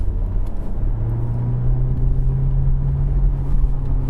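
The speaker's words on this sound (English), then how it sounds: "As a passenger, that felt like a car that was properly accelerated." An electric car accelerating hard, heard from inside the cabin, gives a loud, low, continuous hum with a steady whine that rises slightly in pitch, with no talking.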